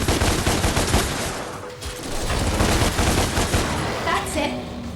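Dense, continuous gunfire from the action game DmC Devil May Cry, with rapid overlapping shots and impacts forming a loud, unbroken barrage for the whole stretch, with a brief dip partway through.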